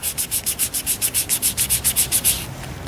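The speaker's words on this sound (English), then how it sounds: "so you can wipe that off real easily" Rhythmic wiping of ink off a card with alcohol, a steady series of fast rubbing strokes, close and fairly loud, with no voices.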